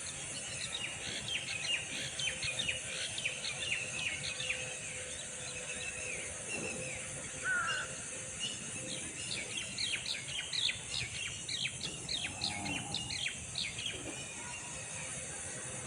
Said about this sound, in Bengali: তার সাথে অচেনা চেনা পাখিদের কিচিরমিচির শব্দ।